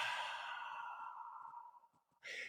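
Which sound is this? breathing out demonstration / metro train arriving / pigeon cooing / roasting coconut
breathing out demonstration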